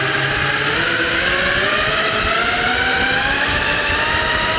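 An ImpulseRC Alien 5 FPV quadcopter's motors throttle up into a loud, continuous high whine that climbs steadily in pitch, heard up close with no talking.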